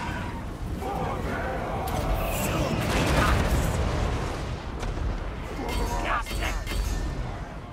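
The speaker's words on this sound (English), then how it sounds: "Ready to drop your bombs?" Bombs dropping in the Total War: Warhammer 2 strategy game, a continuous rumbling barrage of booms and blasts that swells around the middle and carries on to the end, with voices talking over it.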